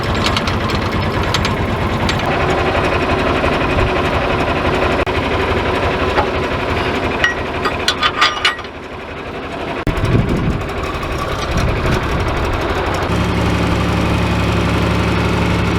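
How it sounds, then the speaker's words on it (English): A tractor engine idles and runs with a steady mechanical drone and vibration, briefly dipping mid-way before settling into a lower, even chug, on a farm during mowing work. "So I gotta turn the tractor on, raise this"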